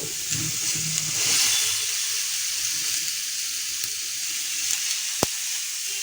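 Kathi kebabs sizzle and fry steadily in a lightly oiled pan over low heat, a continuous close hiss with faint clinks and one sharp tap near the end.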